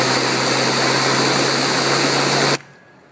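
A Driploc Stinger rotary cleaning head spins at high RPM, giving a loud, steady, high-pitched whine with a constant tonal hum that cuts off abruptly near the end.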